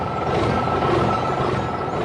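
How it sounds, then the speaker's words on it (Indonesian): A big red truck works hard loading dark soil into a clean white container, giving off a steady, broadband engine rumble and mechanical noise that holds close and constant throughout. "Truk merah besar sedang bekerja keras."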